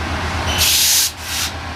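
Passenger train pulling into Los Angeles Union Station on renewable fuel, a steady low rumble with loud bursts of air hiss from the brakes or exhaust, heard alone with no talk.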